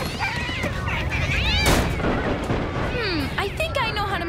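A cartoon character's voice meows in imitation of a cat amid a busy animated soundtrack, with chirpy tonal sweeps, a loud burst in the middle and steady background noise throughout.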